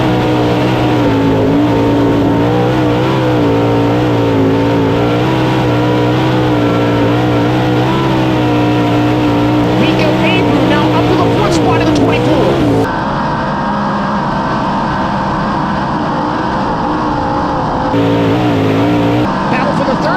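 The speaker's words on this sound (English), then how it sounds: "Green flag is waving at the dirt track at Charlotte Motor Speedway." World of Outlaws sprint cars racing on the dirt track at Charlotte Motor Speedway, a loud sustained engine roar from the field with pitch swells as cars pass, under continuous commentary.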